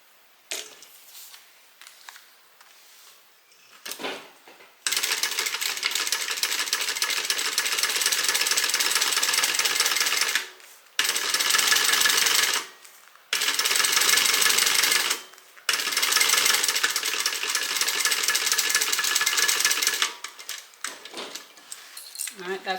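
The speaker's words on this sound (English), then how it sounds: "So now I'm going to stitch 2 rows of stitching, 1 at 1/8 of an inch" Sewing machine stitching two rows of topstitching on a hip bag: long loud runs of rapid mechanical whirring broken by short pauses, with quieter handling noises in the gaps, close up.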